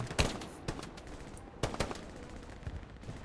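Gunfire in the WWII shooter Hell Let Loose on the Smolensk map, a few sharp shots and short bursts ringing out at mid distance over a rumbling battlefield background, with quieter scattered shots between.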